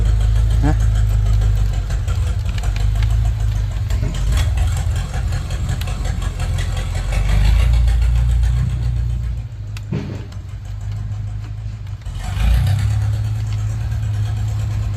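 A car engine runs loudly and steadily at close range, swelling in a couple of surges like revving, while people talk over it throughout.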